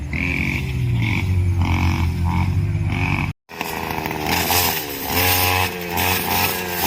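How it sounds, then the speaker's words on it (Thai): A motorized grass cutter trims dry grass nearby, its engine droning loudly and steadily with shifting revs and a brief cut-out partway through. "เดี๋ยวคุณลุงก็จะตัดหญ้ามาแถวนี้นะคะ"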